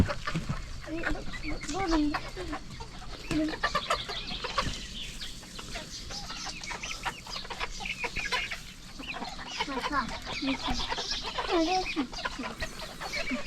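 Chickens clucking busily while being fed grain, with a dense mix of near and far clucks and squawks running continuously, and people talking intermittently over the flock.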